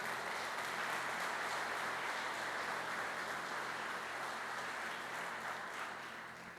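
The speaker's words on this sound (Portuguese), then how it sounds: "Aplauda Jesus." A church congregation applauding during a worship service, a broad sustained wash of many hands clapping at moderate distance that fades slightly toward the end.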